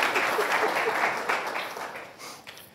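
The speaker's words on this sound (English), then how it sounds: "I think we should give him a round of applause for achieving his 7 minutes" A seated audience at an American Constitution Society Supreme Court preview panel gives a round of applause for a speaker, steady at first, then thinning and fading toward the end.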